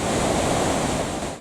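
Iguazu Falls waterfall roaring as a steady, loud, broadband wash of falling water, continuous and alone without voices.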